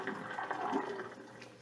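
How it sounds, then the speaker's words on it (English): Cooked noodles for mac and cheese drained into a colander, a close, steady gush of pouring water splashing through for under two seconds with no talking. "I'm going to drain this in my colander"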